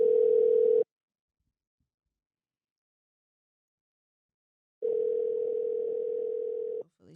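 Two long, steady ringback tones on a telephone line while a call is placed, the first brief and the second lasting about two seconds after a long silent gap, loud and clean with no talk.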